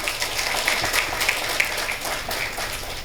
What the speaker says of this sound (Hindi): तो एक बार जोरदार ताली से गणेश जी के माइक दी